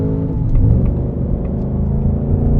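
A Ford Mustang GT V8 with a 10-speed automatic sends a loud, close, steady low engine drone and rumble through the cabin, with a slight rise in pitch partway through and no speech.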